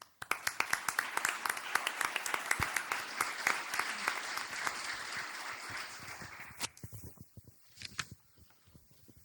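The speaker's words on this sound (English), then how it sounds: "I would like to ask you to join me, giving me a round of applause to them" Audience at an international seminar applauds the speakers, a dense burst of many hands clapping that starts sharply, holds steady, then thins out into scattered claps before fading.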